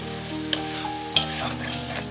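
Spiced masala for a soybean and potato curry sautéing in a pan with small splashes of water added, a steady sizzle with a couple of sharp scraping stirs of the spoon, close and clear with no voices.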